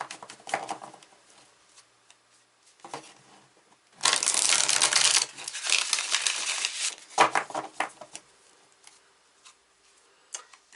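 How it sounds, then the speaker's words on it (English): Tarot cards being shuffled and drawn from a deck, soft close riffling and sliding with a dense burst of shuffling in the middle and light taps and flicks around it. "So I'm going to pull some cards here."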